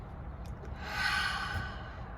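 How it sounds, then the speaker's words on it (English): One slow, deep breath drawn in softly through the nose and mouth, swelling gently and then easing off, close and quiet with no talking. "just take a good deep breath."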